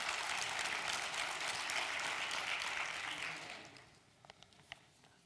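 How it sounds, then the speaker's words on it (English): A church congregation claps loudly for the soloists in a dense burst that fades over a few seconds, leaving a few scattered last claps. "We can clap."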